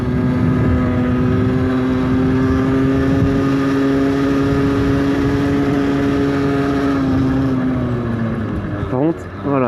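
Steady engine drone of a motorcycle riding through a series of curves, loud and close with a constant tone and slight pitch drift, easing off near the end.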